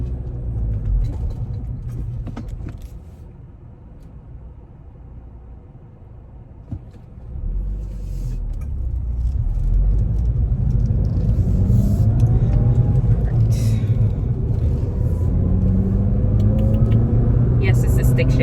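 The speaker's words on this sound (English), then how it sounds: "You just feel like you're doing something when you're driving a stick shift." A stick-shift car being driven, its engine rumble low and steady at first, then rising and swelling louder in the second half as it accelerates, with cabin road noise throughout.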